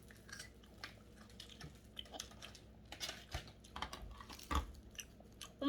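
Close, quiet chewing and crunching of homemade ice cream made from a grape-flavored drink, with irregular small bites and clicks and no talking.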